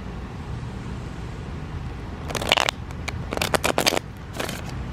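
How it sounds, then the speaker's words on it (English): Tarot cards being shuffled by hand, a run of crisp riffling bursts and flicks in close succession, near and fairly loud over a quiet room hum, with no talking. "First, I'm gonna shuffle."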